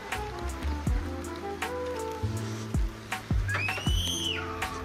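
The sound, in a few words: rain falling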